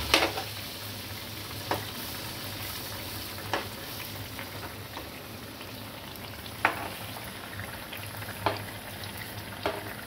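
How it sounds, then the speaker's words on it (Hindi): Jharkhand dhooska batter frying in hot oil gives a steady, close sizzle and crackle throughout, with occasional louder pops and stirring clicks. "बैटर हमको एक ही जगह पे एक ही तार पे डालना है।"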